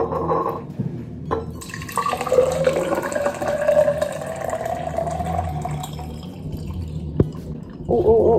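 Water poured into a pint glass, a steady splashing and filling sound rising in pitch over several seconds, close and fairly loud.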